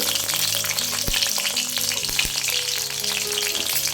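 Urad dal, mustard seeds and chillies fry in oil in an iron wok with a steady, close, dense sizzle, broken by a few sharp clinks of a stirring spoon against the pan.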